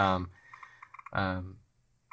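Fingertips tap across the on-screen keyboard of a Google/Asus Nexus 7 tablet, giving a quick run of soft, close clicks between spoken phrases.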